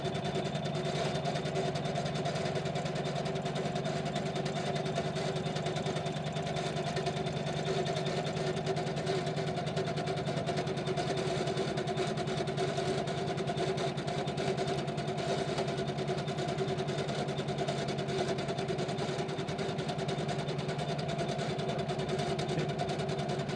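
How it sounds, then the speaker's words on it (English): A sewing machine runs a tack-down stitch on a snowmen quilt block, a steady close mechanical hum and rapid needle chatter holding an even level for over twenty seconds, with no pauses or talk. "it's a tack down stitch, so it's going to stitch it twice. It's gonna stitch over itself."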